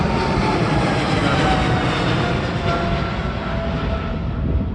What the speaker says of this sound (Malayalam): ഇപ്പം മിയാമിയിലേക്ക് പോകണ ഒരു അമേരിക്കൻ എയർലൈൻസിൻ്റെ ഫ്ലൈറ്റ് പോയി